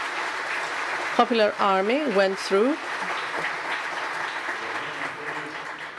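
Conference audience applause runs as a steady broadband wash throughout, with a voice speaking over it in the first half and the clapping carrying on alone afterward.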